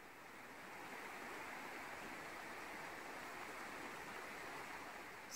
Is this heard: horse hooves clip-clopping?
no